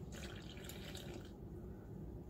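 Water pours into a bowl sitting on a kitchen scale while dough is prepared, a faint splashing stream that runs for about a second and a half, then stops, leaving quiet room noise.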